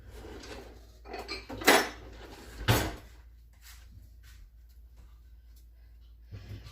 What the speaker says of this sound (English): All right, so we're going to get the dough hook.